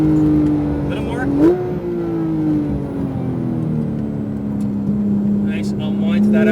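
Porsche 991 GT3 RS accelerating on a race track, its engine a steady, loud drone that sags slightly after a brief shift, heard under a driving instructor's continuous talk.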